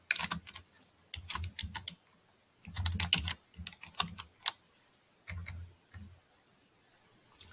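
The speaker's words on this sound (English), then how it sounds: "You type it here." Keys clatter on a computer keyboard in uneven bursts of quick, close taps with short pauses between, while someone types a search into a WordPress plugin field; no one speaks.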